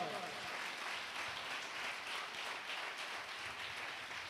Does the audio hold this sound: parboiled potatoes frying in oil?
no